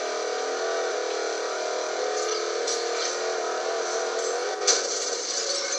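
Rear-wheel-drive car engine in a racing video game, a steady high whining drone that holds close and loud, with a brief sharper bump near the end.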